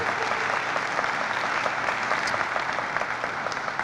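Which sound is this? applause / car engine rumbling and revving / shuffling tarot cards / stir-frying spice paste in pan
applause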